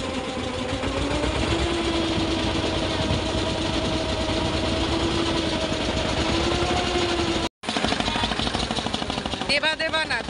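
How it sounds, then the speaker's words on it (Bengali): A boat's engine drones steadily and loudly during a river crossing near Mayapur, a constant low mechanical hum with faint pitch wavers, voices heard briefly near the end. "আমরা এখন নৌকা পার হচ্ছি।"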